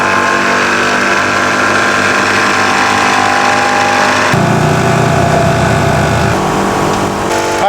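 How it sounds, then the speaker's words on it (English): Jeep Gladiator Rubicon engine running after a restart, a loud, steady close-up hum that shifts in tone partway through with no talk. "I'm going to start the vehicle back up."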